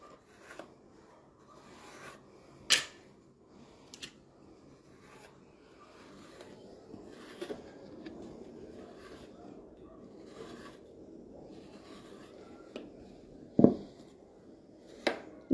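A cake smoother presses and rubs along the edge of fondant on a heart-shaped cake to trim away excess paste, giving soft, faint scraping with a few sharper ticks and taps.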